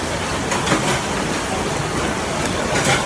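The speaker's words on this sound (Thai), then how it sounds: "ฝนตกหนักครับจ้ะ" Heavy rain pours steadily at Jalan Alor in Kuala Lumpur, a dense constant hiss close by with faint patters rising and falling over a few seconds, no voices.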